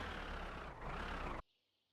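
Steady low engine drone of a tractor in the driving game My Summer Car, continuous and fairly loud, then cutting off abruptly to near silence.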